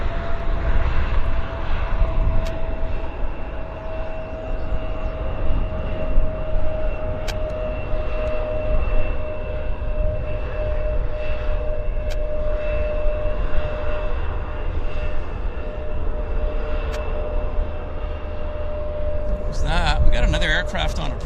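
An Air Canada jet airliner on approach to Vancouver International Airport, a steady loud engine roar with a sustained whine over the whole stretch, while someone talks over it.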